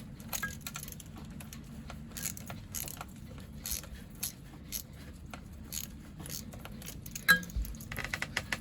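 A 7mm socket wrench works a Jubilee hose clip on a Volvo Penta TAMD41-P marine engine cooling pipe, giving faint, scattered metallic clicks and taps with one sharper clink, close but quiet.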